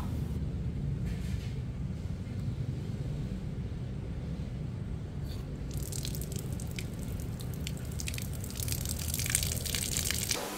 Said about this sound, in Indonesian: saya membuat diffuser untuk kran sehingga aliran air menjadi lebih streamline atau lebih lurus